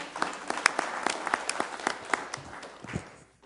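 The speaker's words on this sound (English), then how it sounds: "I know I wasn't supposed to allow clapping there" Audience applause at a city council meeting in Sioux Falls: a short burst of scattered, moderately loud hand clapping from a modest crowd, with distinct individual claps that thin out and fade toward the end.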